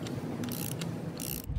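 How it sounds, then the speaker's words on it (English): A torque wrench tightening a preset wheel hub nut to 500 foot-pounds gives close, steady mechanical ratcheting and grinding over a continuous low workshop hum, with no voices. "We will now get the torque wrench and torque this on and have our hub seat itself"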